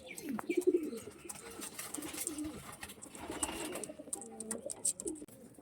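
A pure Andhra pigeon pair gives soft, intermittent cooing up close, low rolling calls broken by scuffs, clicks and a high chirp in a quiet loft.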